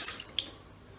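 Water poured generously over a telescope mirror during cleaning, a brief close splash and trickle with a short burst near the middle, then quieter running water.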